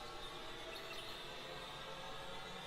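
Wren Whomper noise sample from a Biotech sound library: a faint, dense wash of broadband hiss and grainy static, steady and unchanging for nearly three seconds with no voice over it.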